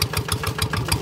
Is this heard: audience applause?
no